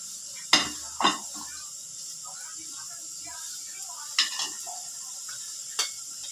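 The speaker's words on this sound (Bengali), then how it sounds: "এই যে এখন আমি আলু ভেজে নিচ্ছি" Potatoes frying in a pan give a steady hiss and sizzle, broken by a few sharp clinks and scrapes of a utensil against the pan.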